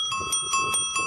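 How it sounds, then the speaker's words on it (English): A bicycle bell rings out in a fast, bright repeated trill of metallic dings, close and clear, with a faint low rumble underneath and no talk over it. "He likes the bell, I think."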